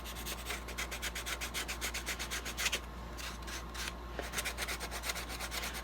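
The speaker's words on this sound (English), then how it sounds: "just a light sanding over it to kind of blend it in" Sandpaper is rubbed lightly over a wooden paintbrush handle in quick, rhythmic back-and-forth strokes, close and steady with a brief pause midway, over a low background hum and no talking.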